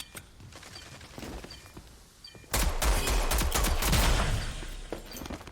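Gunfire in the shooter game Rogue Company: a few scattered shots, then a sudden loud burst of rapid automatic fire with heavy low thumps that continues for several seconds before easing off.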